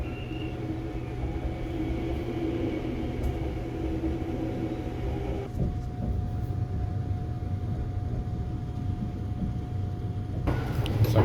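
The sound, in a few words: Sunrise Express sleeper train riding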